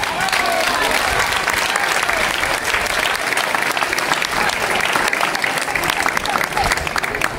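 Audience applause for the candidates at a casting for a princess and knight, a dense, steady clapping that stays strong throughout, with the crowd close by.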